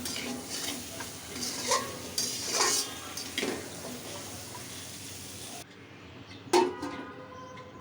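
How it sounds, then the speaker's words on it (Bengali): Mustard stalks fry in spice paste and oil while a utensil stirs and scrapes the pan; bursts of sizzling and clinks come and go, quieting partway before a final sharp scrape. "এখন ভালো করে মশলার সাথে ডাঁটাগুলো মিশিয়ে নেব।"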